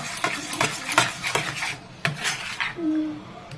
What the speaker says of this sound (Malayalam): നമ്മുടെ ബീറ്റർ ടീസ്പൂൺ കൊണ്ട് നന്നായിട്ട് ഒന്ന് ഇളക്കി കൊടുക്കാം